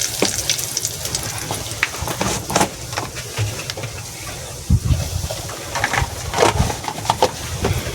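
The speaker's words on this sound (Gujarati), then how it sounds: "જો બધા આ રીતનો વઘાર કરવાનો." Spices crackle and sizzle in hot oil while tempering potatoes in a home kitchen, a steady frying hiss with scattered pops and a few clinks throughout.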